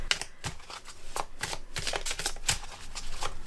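Tarot cards shuffled by hand in continuous close-up riffles, a steady patter of crisp card flicks and slaps at moderate volume throughout, without any speech.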